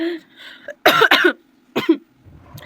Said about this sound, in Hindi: मेरी खांसी नहीं रुक रही थी